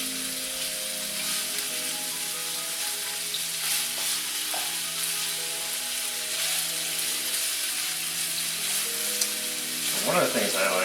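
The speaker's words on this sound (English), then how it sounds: "So this pot's just cooking, or the seafood's cooking really quick." Seafood cooks in a pot, sizzling with a steady, even hiss at moderate loudness and no talk over it, and a brief clatter near the end.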